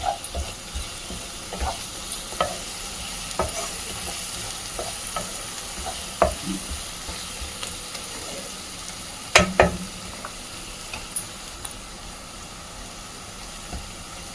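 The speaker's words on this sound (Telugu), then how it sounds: "ఇదిగోండి, ఉల్లిపాయలు వేగుతున్నాయి కదా" Onions frying in a pan for mutton fry with ginger-garlic paste, chili powder and slit green chilies, giving a low steady sizzle broken by scattered clicks and scrapes of a spoon stirring, no voices.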